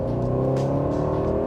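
The twin-turbo V8 of an Aston Martin DB12 gives a brief throttle blip, a steady, deep, close engine drone that holds for under two seconds with no voices.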